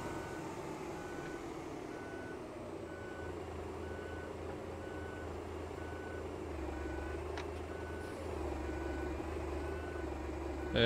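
A simulated bus backing up in Euro Truck Simulator 2 gives off regular, evenly spaced reversing beeps above a constant low engine drone, loud and unbroken for about ten seconds, with the engine swelling near the end.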